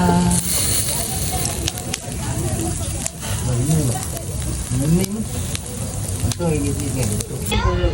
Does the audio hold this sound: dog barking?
no